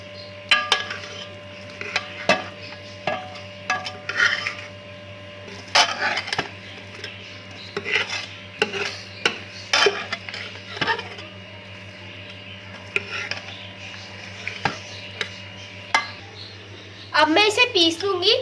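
A spoon scrapes and clinks in a bowl as chopped onion and green chilies are mixed into a kebab mixture, light intermittent taps and stirring under a steady background hum.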